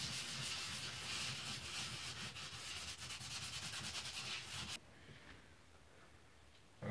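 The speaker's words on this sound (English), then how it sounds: "it's pretty coarse sandpaper that they give you in the kit." Coarse sandpaper from a wall repair kit scrubbing a drywall patch in fast, steady back-and-forth strokes, loud and close for nearly five seconds, then stopping abruptly, leaving a quiet room with a small knock at the end.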